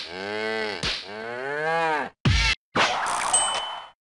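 Cartoonish cattle moos from the You Don't Know Jack trivia game: two long, drawn-out lowing calls, loud and close, followed by a short thump and a ringing ding-like sound effect, with no speech.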